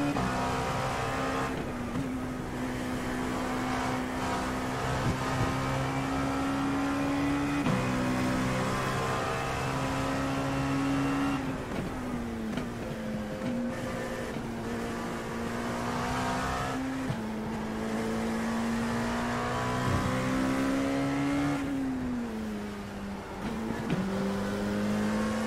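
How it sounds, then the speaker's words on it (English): An LMP2 prototype race car engine in the iRacing sim howls loud and steady through gear changes, repeatedly dropping and climbing in pitch as it shifts and laps on, with faint tire noise and no talk. "lots of people love the sound of the LMP2"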